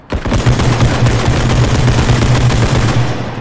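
Rapid automatic gunfire in the realistic shooter Bodycam rattles continuously for several seconds, dense and loud with overlapping shots.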